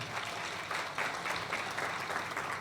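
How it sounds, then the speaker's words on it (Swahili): A crowd at a wedding-themed talk applauds steadily, a dense wash of clapping that holds through the whole stretch at moderate, slightly distant level. "Naomba tumpigie makofi mengi sana"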